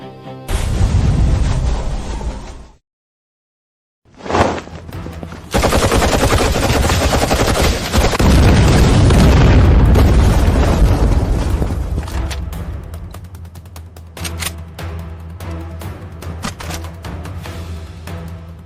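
Dense, loud bursts of machine-gun fire and booming explosions in a battle, with a brief silent gap before the barrage resumes and rolls on continuously.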